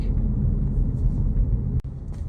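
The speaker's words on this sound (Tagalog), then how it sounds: "Traffic." Downtown Conway road traffic rumbles steadily with passing cars, a low continuous engine and tire drone from nearby vehicles, with no talking.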